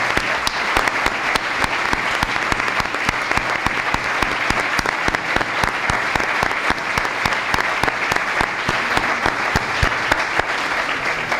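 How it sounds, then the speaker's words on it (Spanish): A lecture hall audience applauds the lecturers at a 50th anniversary ceremony for a telecommunications engineering school in Madrid, steady dense clapping that holds at full strength from start to finish with no talking. "pediros a todos vosotros un fuerte aplauso a nuestros conferenciantes"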